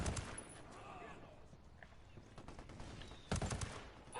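Gunfire in the tactical shooter Ghost Recon, with dense bursts of shots and a loud volley near the end, mixed with game ambience and talk from players.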